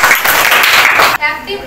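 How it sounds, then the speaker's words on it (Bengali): A classroom of students claps for a classmate, a dense burst of applause lasting just over a second before it cuts off and a voice follows. "এই স্নেহার জন্য সবাই একটা জোরে হাতে তালি হবে"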